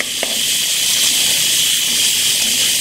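Finely chopped sausage frying in oil with garlic and onion, a continuous bright hiss and sizzle close by with a faint crackle near the start, no speech.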